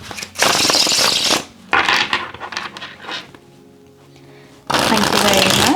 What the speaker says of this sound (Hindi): तो शफल करते हैं पायल नंबर 2 के लिए